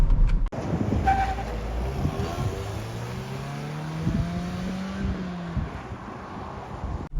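A Daewoo Lanos fitted with a 1.6 engine, converted from a Sens 1.3, pulls off onto the road. Its engine note climbs steadily as it accelerates, heard from nearby over wind noise.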